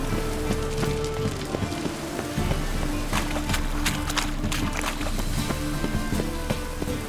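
Steady rain in The Witcher 3: Wild Hunt patters densely on surfaces, with a continuous hiss and scattered sharper drops, alone without voices.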